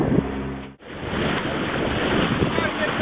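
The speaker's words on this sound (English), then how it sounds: "Those are big waves." Big ocean waves rushing and breaking around a sailboat at sea, loud broadband surf mixed with heavy wind buffeting the microphone and a short dropout near the start.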